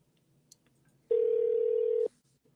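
A telephone line plays a steady, loud, single tone for about a second, set up to start a prank phone call, with soft faint clicks before it and quiet afterward.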